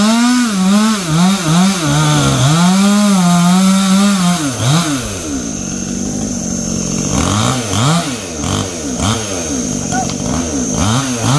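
A chainsaw cuts a mango tree branch in hot 37°C sun. The engine is close and loud, revving and sagging in repeated surges as it bites into the wood, with a steady high whine throughout.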